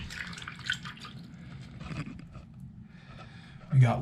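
Tap water runs and drips into a sink being filled during a plumbing leak check, a soft trickle with scattered drips under light talk and a louder splash near the end.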